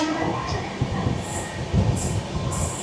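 Shatabdi Express passenger train running at speed while overtaking a Vande Bharat on the South Eastern line out of Kharagpur, a loud steady rumble of wheels on rail with squealing bursts and wind rush, close and continuous.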